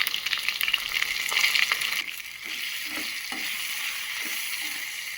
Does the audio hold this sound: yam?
yes